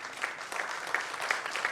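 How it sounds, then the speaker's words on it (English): Audience applauding at a panel discussion during an e-commerce conference, a modest, steady patter of clapping heard alone for a brief stretch. "Can we have a huge round of applause, please?"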